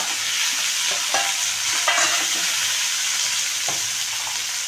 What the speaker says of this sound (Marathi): टॉमॅटो पण छान परतून घ्यायचे आपल्याला